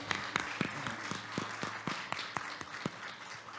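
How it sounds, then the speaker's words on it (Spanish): Applause in a church congregation: scattered, uneven claps sound fairly faint and distant, a few sharper hand claps standing out from the steady patter. "fuerte, fuerte aplauso al Señor"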